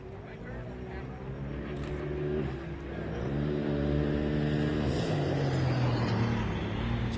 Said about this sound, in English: So the Can-Am UTV Pro Race is going on.